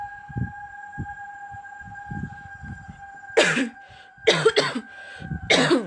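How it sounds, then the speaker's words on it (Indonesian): Several harsh, close coughs come in quick bursts, one after another, over a quiet indoor background with a steady electronic hum and a few soft low thumps beforehand. "Aduh, batuk guys."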